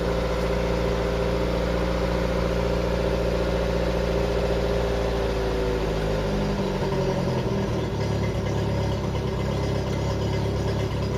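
A Mk3 Ford Cortina Estate's 600 crossflow engine idles close by, a steady rumbling hum whose pitch shifts and settles partway through, running on its own without talk.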